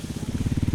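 Motorcycle engine on a muddy trail in Laos, a loud, close, rapid throbbing putter lasting under a second.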